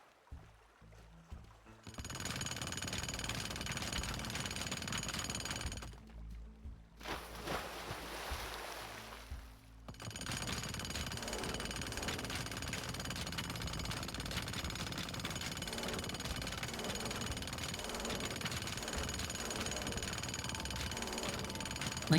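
Jackhammer in the video game Teardown breaks up a building foundation with a sustained, loud mechanical rattle. It starts after a short quiet opening, drops out briefly around the middle, then resumes steadily to the end.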